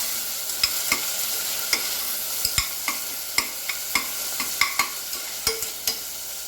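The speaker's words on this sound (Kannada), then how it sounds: "ಈರುಳ್ಳಿ ಬ್ರೌನಿಷ್ ಆದಮೇಲೆ ಇದಕ್ಕೆ ಟೊಮ್ಯಾಟೊ ಹಾಕಬೇಕು." Onion and tomato fry in a pan with a steady sizzle, while a spoon scrapes and stirs in regular clicks every half second or so, close and alone with no talk.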